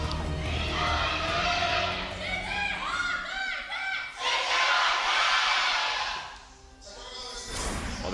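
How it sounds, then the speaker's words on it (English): CJ Entus fans at an LCK Spring Promotion finals esports match cheer and chant in rising, rhythmic waves of crowd voices, loud and sustained, dipping briefly before swelling again. "They want to cheer their way into a win here in game number 2."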